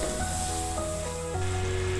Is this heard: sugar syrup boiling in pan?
yes